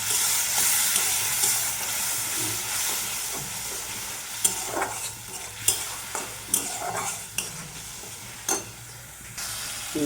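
Masala spices with turmeric and salt frying in oil for an egg and pointed gourd curry, a steady hissing sizzle with stirring scrapes breaking in more often toward the end, close up and without speech.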